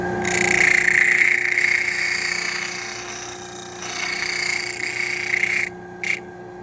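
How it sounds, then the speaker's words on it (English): A power sander working a wooden piece while building a candy catcher, a steady loud whine with a constant hum that dips briefly midway and cuts out near the end with a short final burst. "So now I'm going to take this back to the sander now."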